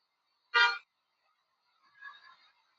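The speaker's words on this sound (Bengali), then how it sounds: "ওই জন্য হর্নটা দিই, রেগুলার হর্ন এটা।" A regular car horn sounds in traffic behind other vehicles: one short, loud honk followed a second later by a fainter, rougher second toot, with silence around them.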